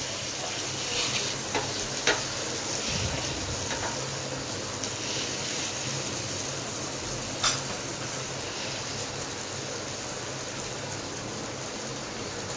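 Peri peri masala snack roasting and sizzling in a pan, with a steady frying hiss and occasional stirring scrapes and clicks, close and continuous with no talk.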